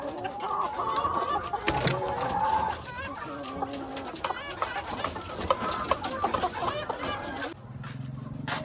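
Old white leghorn hens with chicks, steady clucking and high peeping cheeps mixed in a busy farmyard chorus, close and continuous, with a rooster faintly crowing.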